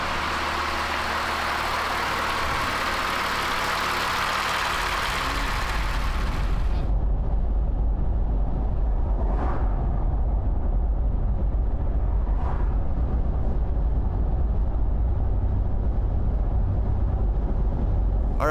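Rebuilt Toyota Land Cruiser engine running close by, a loud rough roar that settles into a steady low idle with a couple of faint knocks.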